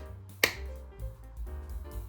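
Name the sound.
clapping imitated to cue dancers on stage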